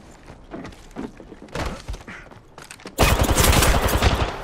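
Battle royale gunfire, first scattered shots and impacts amid game sounds, then a loud, dense stretch of continuous automatic fire filling the last second and a half.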